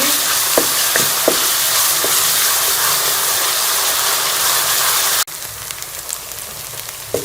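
Sliced onions fry lightly in a pan for chicken kofta curry, giving a loud, steady sizzle with a few stirring knocks early on. The sizzle drops abruptly to a softer, thinner crackle partway through.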